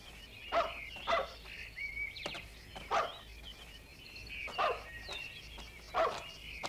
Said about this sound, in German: Warum bellt er plötzlich?